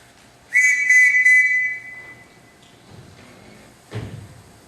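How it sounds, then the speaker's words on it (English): A shrill whistle is blown indoors in a house to summon the household, one sustained piercing blast with a warbling trill lasting about a second and a half, followed by a quieter pause and then a dull thud like a door. "Everyone in this house answers to a whistle."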